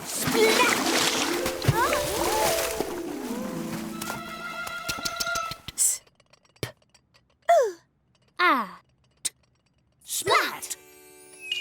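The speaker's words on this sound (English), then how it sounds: "Splash!" A cartoon water splash hits in a busy run of animated sound effects, with bursts of bright noise separated by short gaps, and voices around it.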